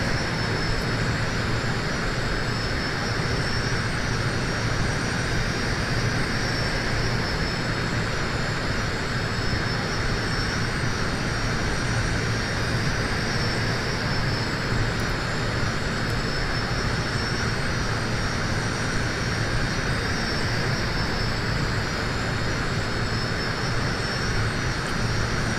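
A constant, loud engine drone fills the inside of an airplane in flight, a steady roar with a faint high whine on top and no change across the whole stretch.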